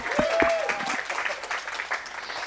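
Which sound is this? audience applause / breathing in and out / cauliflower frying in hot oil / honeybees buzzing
audience applause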